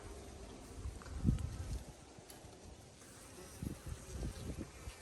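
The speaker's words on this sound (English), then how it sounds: "Buzzy, buzzy, buzzy bee." Honeybees swarm at a beehive with a steady, dense buzz that swells and fades in close, rising in short louder bursts.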